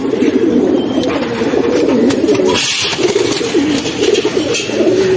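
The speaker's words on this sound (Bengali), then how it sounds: "এই হচ্ছে কাজ করা নর কবুতরটা" Pigeons coo in a steady, overlapping murmur, low and continuous throughout, with faint chirps and background noise above.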